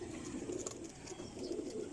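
Soft, low coos of Sialkoti pigeons roll on in a gentle repeating murmur, quiet and steady throughout.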